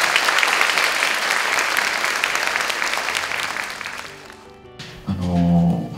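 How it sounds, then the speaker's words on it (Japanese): Loud, dense applause from a theater audience at a film premiere stage greeting for a Japanese movie, sustained for about four seconds before fading, then giving way to voices and music-like tones near the end. "今一度盛大な拍手をお願いいたします。"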